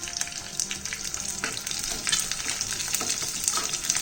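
A tadka of curry leaves, green chilies and urad dal fries in hot oil, producing a dense, continuous crackling sizzle with scattered pops and a few stirring scrapes.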